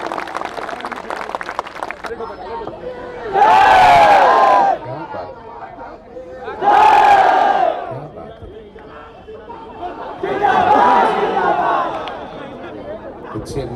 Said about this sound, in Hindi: एक बार जोरदार तालियां और सलीम शिवालवी जी के लिए बजा दीजिए।